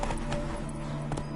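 Horse hooves clip-clopping in The Witcher 3 video game, a short run of soft, even hoof thuds at moderate distance over a faint steady background, with no speech.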